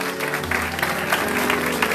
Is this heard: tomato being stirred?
no